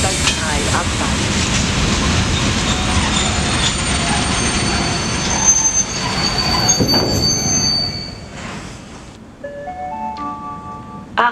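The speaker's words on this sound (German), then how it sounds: "Zug fährt durch." A train passes through Mödling station at night, its wheels squealing loudly in long metallic shrieks over a rumbling roar, then fading out into quieter tonal squeals and clatter as it moves away.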